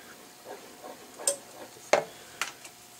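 Mac and cheese is stirred with a wooden spoon in a pot, giving a few faint, scattered scrapes and soft knocks against the pot, with several sharper taps standing out from a quiet background.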